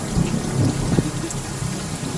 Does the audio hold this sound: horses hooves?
no